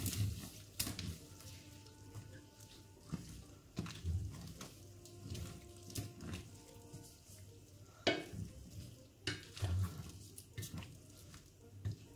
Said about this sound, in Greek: Βάζουμε μέσα τον τραχανά. Ανακατεύουμε.